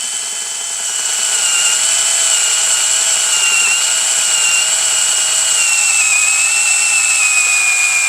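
A cordless power tool on a weak battery whirs steadily during a 60-year-old Honda motorcycle motor teardown, a continuous high-pitched drone that rises slightly after the first second and holds, close and alone with no talk.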